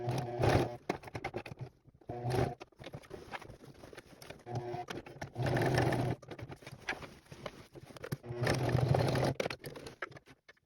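A sewing machine stitches a leather patch onto fabric in several bursts of rapid mechanical whirring and clatter, separated by pauses and handling noises, with some quiet talk between runs.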